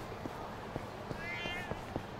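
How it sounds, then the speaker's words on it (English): A cat meows faintly in the video game Lost Judgment: The Kaito Files, one short mew heard under light footsteps and background ambience. "Oh, there's another cat."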